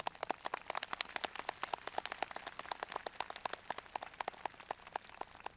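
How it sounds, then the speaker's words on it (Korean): Audience clapping to welcome a speaker to the stage at a Buddhist peace meditation event near the DMZ, with steady, dense applause throughout and no voices. "초격 스님을 큰 박수로 모시겠습니다"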